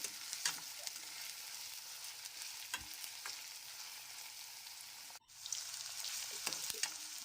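Onions fry in oil in a pan, a steady close sizzle with occasional spatula scrapes and taps, briefly cut off near the end before resuming.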